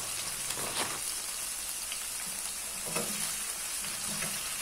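Tomatoes fry with spice paste for tomato-and-dried-shrimp sambal while being stirred. A quiet, continuous sizzle carries a few faint scraping strokes, alone and without voices.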